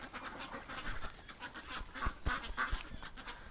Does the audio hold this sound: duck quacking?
yes